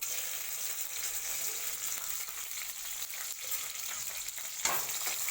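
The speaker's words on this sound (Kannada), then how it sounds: "ಇದನ್ನು ಸ್ವಲ್ಪ ಫ್ರೈ ಮಾಡ್ಕೊಳ್ಳಿ." Dry red and green chillies fry in hot oil in a pan for a kalakai chutney, giving a constant close sizzle with light stirring scrapes and one sharper crackle near the end.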